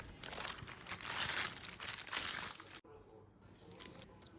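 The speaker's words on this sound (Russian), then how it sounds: "Берем противень и стелим пергаментной бумагой." Parchment paper crinkles and rustles as it is spread over a baking tray, a close, fairly quiet crackling for about three seconds, then a softer rustle with a small tap at the end.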